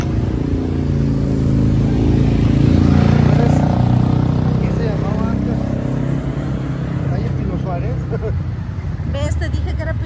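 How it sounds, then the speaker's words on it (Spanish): A motorcycle engine drones steadily and close while riding, a continuous low rumble underneath people talking throughout. "me estaba subiendo a la moto."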